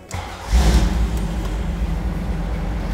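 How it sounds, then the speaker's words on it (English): A cold 327 V8 engine in a 1963 Chevrolet Impala SS Convertible cranks briefly and fires up, then settles into a steady, deep, lumpy idle rumble close by. "how about we start it for you now"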